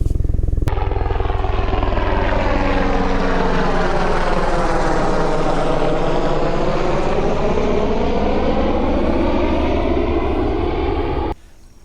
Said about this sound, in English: Never really considered a Coast Guard helicopter flying directly over where I'm fishing